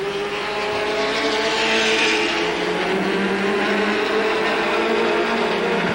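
Stock cars roar around the track together in a 1985 ARTGO heat race at Capital, their engines a loud, continuous drone throughout.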